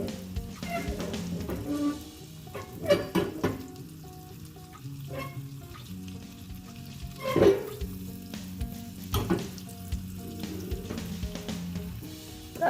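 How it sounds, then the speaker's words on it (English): A little butter melts in a pan, giving a steady soft sizzle with faint crackles and occasional stirring scrapes running throughout, close and fairly quiet. "So the butter is getting melted over here."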